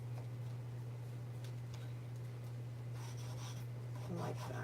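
A bone folder pressed and rubbed along a paper fold while making a craft gift cover, faint scraping strokes under a steady low hum, with a few soft rustles near the end.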